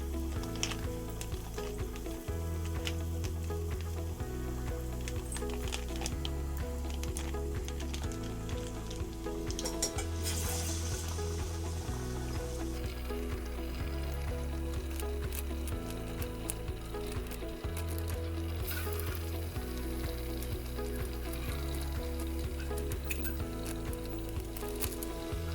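Palm fruit pulp vadas sizzling steadily in hot oil over a medium flame, a continuous close crackle and fizz with occasional stirring noises, under a constant low background hum.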